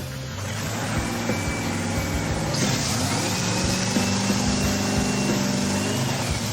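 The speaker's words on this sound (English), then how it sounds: "it sure feels good to hear the car fire up like that" Engine of a Cutlass lowrider car running after a new magneto was fitted, a steady rumbling idle that holds loud and even throughout, with a higher whine joining partway through.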